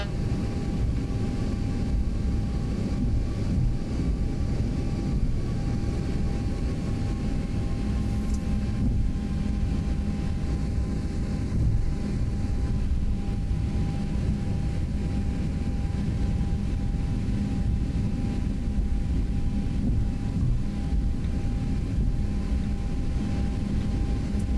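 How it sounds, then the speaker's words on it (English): Boeing 737 in the X-Plane 11 flight simulator taxiing across a runway, a steady low engine rumble and hiss holding constant throughout with a faint whine, no talking. "So we are continuing taxiing and crossing the runway."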